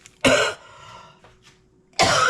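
Two sharp, harsh coughs close by, separated by a brief pause with a faint throat sound in between.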